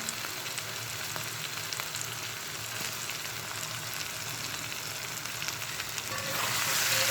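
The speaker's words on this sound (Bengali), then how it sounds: "মশলার সঙ্গে আলুগুলো আবার একটু কষে নেব।" Fried potatoes sizzling in a pan as they are stirred with spices for a Bengali jackfruit and prawn curry, a steady close hiss with scraping, growing louder near the end.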